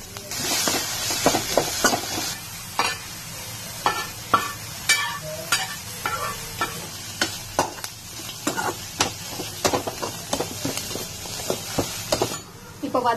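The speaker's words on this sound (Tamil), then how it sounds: "கருவேப்பில ஆட் பண்ணிட்டு நாலு பல்லு பூண்டு போட்டுக்கலாம்" Garlic and curry leaves frying in a pan with a steady sizzle, while a spoon stirs and scrapes in repeated close strokes throughout.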